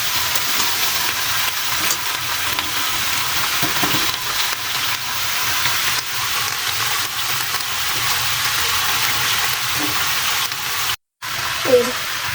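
Pieces of jackfruit sizzle loudly in hot oil while being stirred around a pan, a continuous frying hiss with a few scraping spoon sounds and a brief drop near the end, and some talking in the background.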